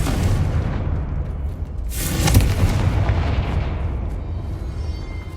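Confringo fire spell detonating in Hogwarts Legacy, a loud booming blast that swells around the two-second mark over a continuous low rumble of game sound, with no voices.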